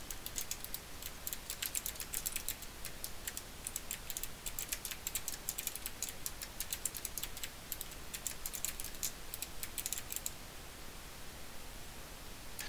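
Rapid typing on a computer keyboard, a steady stream of close, crisp key clicks with no speech, pausing near the end.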